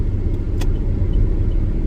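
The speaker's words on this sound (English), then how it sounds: "I gotta get around this semi because it's kicking back rocks" A vehicle pulls around a semi truck on the road. A steady low road rumble and engine drone from inside the cab carry a few sharp ticks, with no talk.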